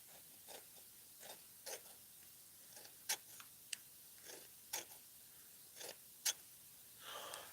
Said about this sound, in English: Can you hear those scissors?